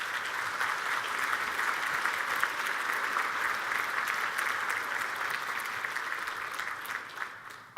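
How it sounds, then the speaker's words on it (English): An audience of school principals gives a sustained round of applause at a morning presentation, with dense, steady clapping from a large crowd that holds evenly for several seconds before thinning slightly at the end. "Can we give them a round of applause,"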